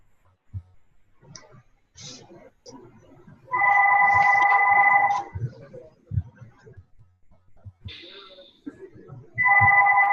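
A phone rings during a group conference call, two loud electronic ring bursts about four seconds apart over a quiet line with faint background noise between them.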